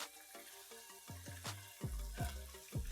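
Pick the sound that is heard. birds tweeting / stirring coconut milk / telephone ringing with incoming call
stirring coconut milk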